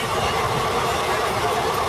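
A train passes during a crossing on the Mysuru–Kakinada special rail journey, making a continuous broad rumble and rushing noise, heard from aboard with no speech.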